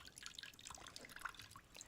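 Water drips and trickles in a small model public fountain with a pump, making quick bright plinks and droplets close up, steady and alone.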